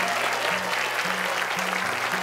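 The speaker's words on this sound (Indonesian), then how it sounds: "Tepuk tangan untuk Syekh Ali Jaber" An audience applauds at an Indonesian televised Quran recitation competition, with dense continuous clapping from a large crowd throughout, loud and unbroken, while low background music plays beneath it.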